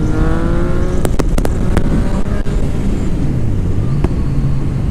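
The engine of a Yamaha FZ-09 motorcycle revs during a wheelie, rising and falling in pitch under heavy wind rush, with several sharp clicks or knocks partway through.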